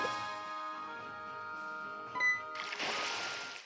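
Fishing rod cast in the Pokemon Moon video game: a sustained chiming tone, a quick bright swish, then a soft noisy splash-like burst, clean and alone without talk.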